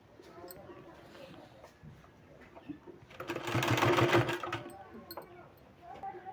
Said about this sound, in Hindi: यहाँ तक पूरे में सिलाई हमको फोल्ड करके लगा देना है।